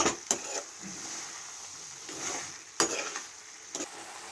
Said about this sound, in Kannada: ಇನ್ನೊಂದ್ಸಲ ಮಿಕ್ಸ್ ಮಾಡ್ಕೊಬೇಕು